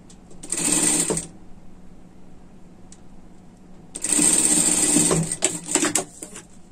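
A sewing machine topstitches a sweater seam in two bursts of steady, buzzy stitching, the first short and the second longer with a few stops and restarts near the end, close and fairly loud.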